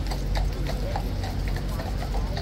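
Hooves of the King's Guard horses clip-clop in a steady rhythm on pavement, close and loud over busy street noise with faint crowd murmur.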